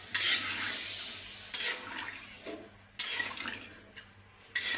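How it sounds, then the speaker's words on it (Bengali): Broth poured into a pan of braised stinging catfish (shing fish) and potatoes during a Bengali village-style fish bhuna, a close splashing liquid rush in several separate loud bursts. "এখন ঝোল দিয়ে দেবো"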